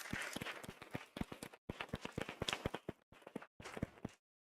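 A school board meeting audience gives a round of applause: faint, scattered hand claps in short bursts with brief silent gaps, ending in silence.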